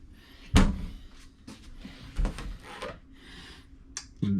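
Cabinet drawers in a park-model tiny house are pulled open, giving a few wooden thumps and sliding rubs spaced irregularly, close and moderately loud.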